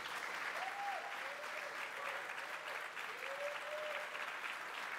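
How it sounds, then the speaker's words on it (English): An audience at a game-design talk about God of War applauds. The applause is a steady, dense wash from a crowd. A faint voice speaks beneath it. "let's have another big round of applause for Luke and Nate"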